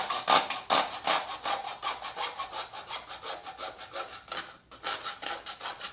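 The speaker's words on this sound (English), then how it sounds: "you're going to need a hacksaw" A hacksaw cuts through a plastic detergent bottle in steady back-and-forth strokes, about a dozen rasping passes with a brief pause near the end, close and alone.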